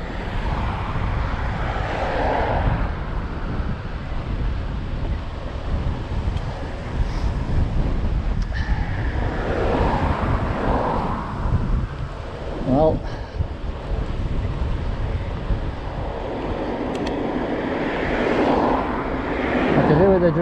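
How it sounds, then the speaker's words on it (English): Strong, steady wind roars and buffets the microphone throughout a windy outdoor ride between Littleborough and Todmorden, with someone talking intermittently over the gusts. "Oh, I'm right in it now, this wind."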